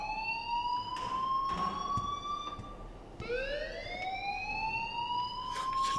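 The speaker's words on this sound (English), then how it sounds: "please turn off that alarm since that's your job" School alarm ringing in the video game Life is Strange, a steady loud electronic wail that rises in pitch, cuts briefly around midway and then climbs again, continuous throughout with faint background noise.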